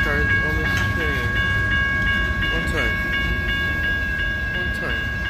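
A passenger train rolls along, heard from inside its last car as a continuous rumble with steady high squealing tones and rhythmic clicks from the rails, loud and close throughout.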